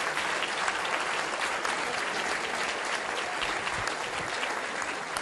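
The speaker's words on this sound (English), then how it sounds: "Guys, I want you to applaud for all the parents" Crowd applauding players' parents at a youth sports team gathering, a continuous, full roar of clapping held steady from start to finish with no pauses, moderately distant.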